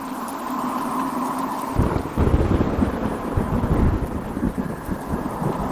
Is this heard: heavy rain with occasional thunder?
yes